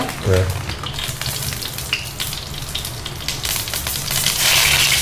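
Aluvadi shallow-frying in oil with sesame seeds, a steady close sizzle and crackle running throughout with brief clatters, growing louder toward the end; no talk.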